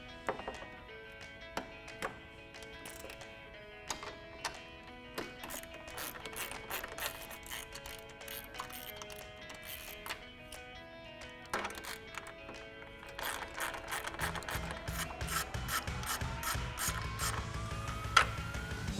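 A 10mm socket on a ratchet wrench removes bolts from the headlight of a 2018-2020 Ford F-150 during a headlight swap. Quick, close metallic clicks come in bursts, with a louder whirring mechanical layer near the end.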